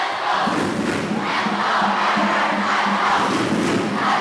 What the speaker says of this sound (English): And number 2, Braden Shickley, getting a lusty cheer from the crowd.